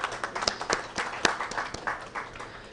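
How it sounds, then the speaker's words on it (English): Moderate applause from a conference audience as a speaker is welcomed onto the dais, a short burst of scattered clapping heard at some distance. "Please give him a round of applause."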